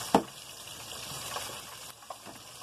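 Oysters frying in hot oil give off a steady, soft sizzle with a brief sharp pop near the start and small crackles later, heard close and alone.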